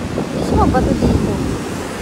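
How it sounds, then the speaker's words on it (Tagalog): Strong ocean waves crash and wash against a rocky beach at Limliwa Beach Resort, a steady surging roar with wind buffeting the microphone and a voice briefly heard over it. "lakas ang lakas ng alon. Ang lakas ng hampas. Ang dagat."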